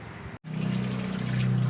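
Washing machine draining water after a suspension rod repair. A brief click and a moment of silence come first, then a steady loud gushing and humming drain flow that runs to the end.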